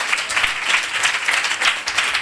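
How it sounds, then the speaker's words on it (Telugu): Applause from a congregation at a Saturday church service, steady dense clapping from many hands filling the space evenly throughout, with no talk over it. "చప్పట్లు కొట్టాడు ఒకసారి అందరూ."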